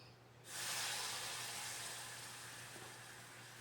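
Half a cup of water is poured into caramelizing sugar on a stove and sets off a sudden loud hiss. The hiss stays steady and close, then slowly fades as the sizzle settles.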